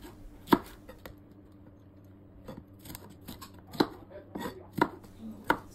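Sweet bell pepper being cut into pieces with a kitchen knife on a board at home, a few sharp separate chops spread irregularly over several seconds, close and fairly quiet, with no one talking.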